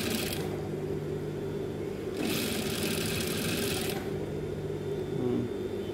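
A sewing machine stitches a fabric pouch in two close, steady whirring runs, a short one and then a longer one, with a low motor hum continuing between them.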